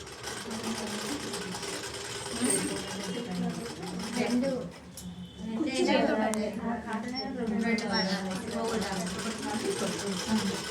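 A sewing machine stitches a folded fabric hem, with a steady mechanical whir that pauses briefly and then resumes, while someone talks over it almost throughout.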